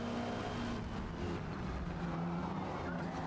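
Race car tyres scrubbing and squealing through a fast corner in Forza Motorsport, a continuous loud engine drone with rough tyre noise running steadily throughout.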